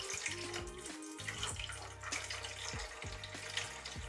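Water poured into an indoor hydroponics unit with a 5-litre reservoir on a desk, a continuous close filling rush broken by intermittent gurgles and glugs, with no voices.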